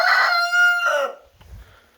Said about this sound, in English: Pretty much caught all 3 of them crowing, as you've seen.